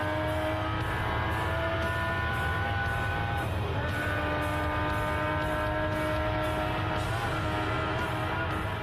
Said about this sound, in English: the awesome sound of those TWR V12 Jaguars back in 1985